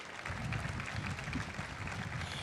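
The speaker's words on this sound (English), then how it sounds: "Let's give one more last round of applause for all of our participants today." An audience at an AI WealthTech demo event applauds for the participants, a dense, steady patter of clapping from the crowd that carries on at an even level.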